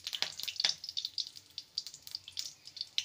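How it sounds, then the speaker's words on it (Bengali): Whole garam masala and cumin seeds crackle in hot refined oil, a light, steady sizzle with scattered sharp pops and spits over a few seconds, close and fairly quiet with no voices. "ফোড়নটাকে কয়েক সেকেন্ড ভেজে নেব।"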